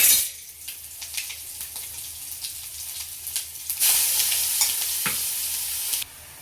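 Ginger garlic paste, chopped chillies and coriander sizzle in hot oil in a pan for vada pav, with continuous frying hiss, stirring scrapes, and a sharper, louder burst of sizzling partway through.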